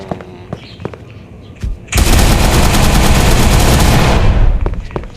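Rapid automatic gunfire in the mobile survival game Jurassic Survival, a loud sustained burst of shots that starts abruptly after quiet moments and keeps going for several seconds.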